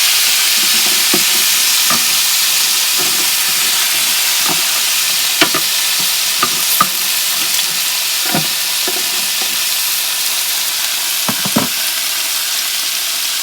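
Boneless ribeye steak sizzles steadily on a preheated Ninja Foodi XL indoor grill, a constant broadband hiss broken by scattered sharp pops and crackles, loud and close, with no talking.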